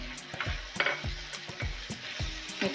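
Whisked yogurt is being stirred into frying liver (kaleji) masala in a pan, giving a steady sizzle broken by repeated scraping strokes of a spoon at an irregular rhythm, close up, with no talking.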